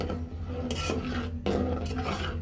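Spoon scraping and stirring through milk payesh made with tea milk in a pot, a steady rasping churn with two brighter scraping strokes, close and alone.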